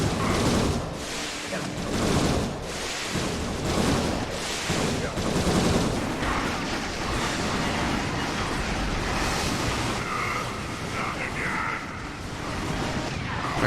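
A boss fight in Ratchet & Clank: A Crack in Time fills with a dense, unbroken barrage of explosions and crackling blasts, loud and chaotic for the whole stretch.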